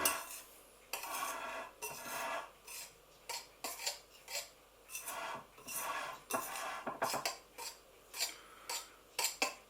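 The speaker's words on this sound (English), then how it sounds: "Using our knife, we're going to stir. Turning the bowl." A knife scrapes and clinks against a bowl while stirring shortcrust pastry dough, a repeated rhythmic scraping with light taps, close and fairly quiet.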